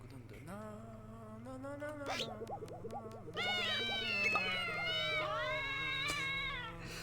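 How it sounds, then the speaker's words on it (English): Synthetic cat meows from the Namco logo in We Love Katamari Reroll rise and fall in a playful melodic sequence over a steady low electronic hum, ending with a brighter chorus of chirpy meows. "the Namco logo makes the kitty noises"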